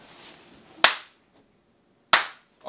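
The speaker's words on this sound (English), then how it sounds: "Let's get the clap." A clap sample triggered on an MPC drum machine during an apartment beat-making session, two sharp, loud claps about a second apart, with a third starting at the very end, each with a short bright decay.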